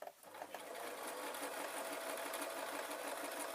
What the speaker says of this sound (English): I am having to stop the sewing machine